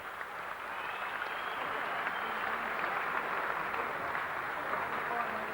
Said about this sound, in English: give both guys, Paul and Baris, a big round of applause